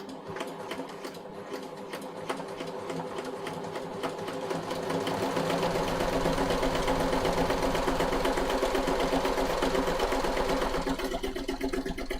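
A sewing machine stitching thick fabric for a kid's jacket, with a steady, rapid mechanical whir that ramps up and then holds at a louder, constant run, close by and uninterrupted.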